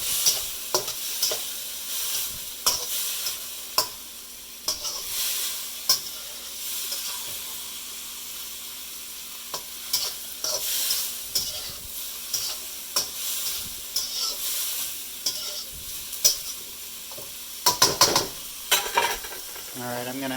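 Broccoli sizzles and hisses steadily in a hot stir-fry pan, broken by frequent clicks and scrapes of stirring close by, with no talking.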